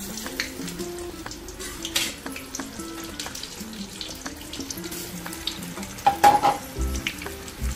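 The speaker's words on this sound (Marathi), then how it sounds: "सगळे तळून घेते आणि मग परत दाखवते मी तुम्हाला बटाटे वडे." Potato vadas (batata vada) deep-frying in oil give a steady, low sizzle, while running water and clinks of utensils break in now and then, loudest near the end.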